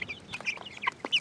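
Chickens and a rooster cluck and squawk in short, choppy bursts nearby, several birds chattering over each other with quick, uneven calls.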